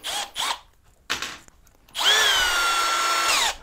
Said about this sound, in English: So let me just bust out my drill gun